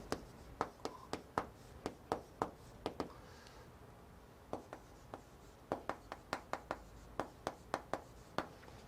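A pen scratches out a formula on paper in quick, crisp bursts of strokes with short pauses between them, close and fairly quiet in an otherwise silent room.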